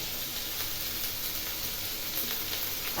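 Ginger paste hitting a hot pan already frying potatoes, giving a steady, dense oil sizzle that stays fairly loud and even for the whole stretch, with no talking.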